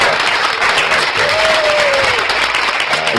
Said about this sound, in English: Round of applause, bro.